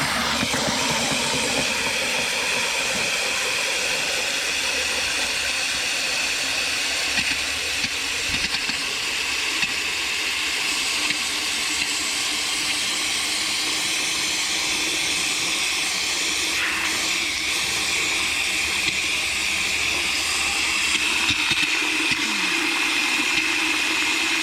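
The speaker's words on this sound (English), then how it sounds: "So this fills up with water." Water rushes from a hose or tap into a container being filled for a car wash, a loud continuous gushing roar that shifts slightly in pitch as the level rises.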